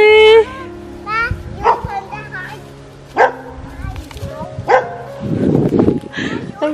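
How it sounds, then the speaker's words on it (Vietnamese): A dog barks several times, in short sharp yaps spaced through the moment, mixed in with children's voices and chatter nearby. "Con chó nó sủa kìa."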